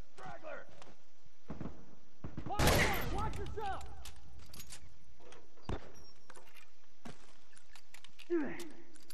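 Gunfire in the video game The Last of Us: a loud burst of shots near the three-second mark, then scattered single cracks and footsteps, with game voices calling out between them.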